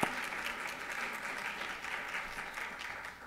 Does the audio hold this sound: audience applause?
yes